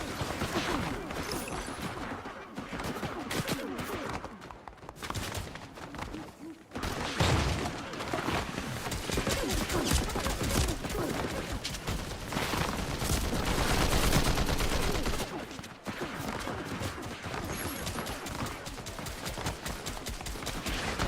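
Rapid gunfire from a new weapon in Fortnite Zero Build, dense bursts of shots rattling through nearly continuous busy game noise, loud and close, with brief lulls between volleys.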